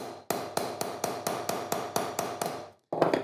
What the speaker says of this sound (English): I pound it to make it wider and bigger and also thinner